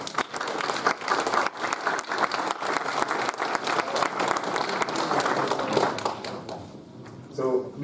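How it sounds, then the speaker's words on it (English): Conference audience at the DVCon Europe 2022 opening session claps in a sustained, dense round of applause lasting several seconds before fading out near the end. "we all deserve a great, huge round of applause for ourselves"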